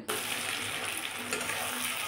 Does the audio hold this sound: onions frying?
yes